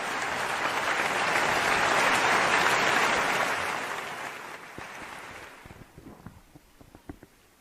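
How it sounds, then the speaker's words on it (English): An audience applauds to welcome Dr. Chella at an organisation gathering; dense clapping holds strong for a few seconds, then thins out into scattered, individual claps. "I request you all to please welcome him with a huge round of applause"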